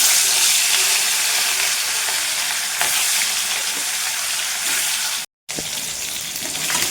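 Fish frying in hot oil produces a loud, dense, continuous sizzle that stays near and steady, broken once by a short silent gap before carrying on.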